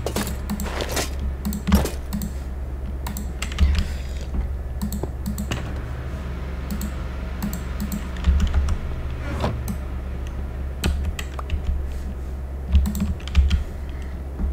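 Typing on a computer keyboard, a steady run of close, crisp key clicks with occasional louder presses over a low constant hum, no talking.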